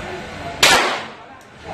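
A single sharp shot from a Glock 19 Gen 5 pistol fired at a target about 10 metres away, loud and close with a short ringing decay and quiet background.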